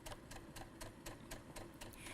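A sewing machine stitching a zipper on a cosplay costume runs in a faint, even rhythm of quick repeated needle strokes, about four per second, steady throughout with no talking.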